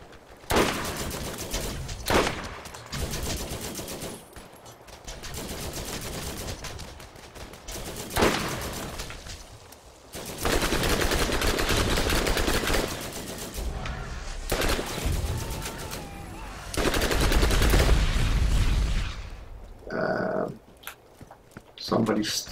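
Bursts of gunfire from the video game Borderlands crack out in runs of shots separated by brief pauses, with a player talking over the action.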